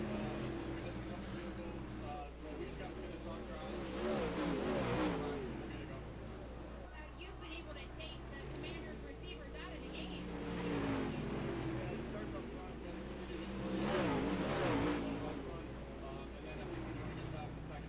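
Dirt track race cars roar around the oval in a steady, continuous engine drone that swells and fades as the pack passes, with a race commentator talking over it throughout.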